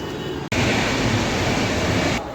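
A train rushes past close by near a railway station, a loud continuous roar of rumbling wheels and rushing air that starts abruptly and holds steady.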